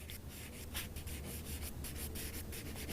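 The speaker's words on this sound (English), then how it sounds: "I am going to go back in now with the corner of my pastel and make" A pastel stick scrapes and rubs across paper in steady, continuous strokes, close and soft with a grainy texture and no talk.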